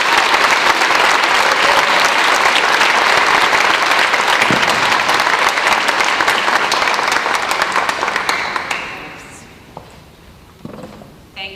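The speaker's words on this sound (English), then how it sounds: "Please give a round of applause for your male recipient, Mr. Ian Gann" A high school senior night crowd applauds an award recipient in a loud, dense wave of clapping that holds steady for about eight seconds, then fades to a few scattered claps and quiet murmuring.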